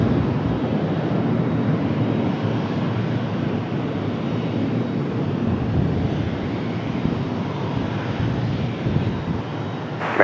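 American Airlines Boeing 737 landing on runway 23 right at Raleigh-Durham airport, a broad steady jet engine roar that stays loud and close throughout with a faint windy hiss and no talk.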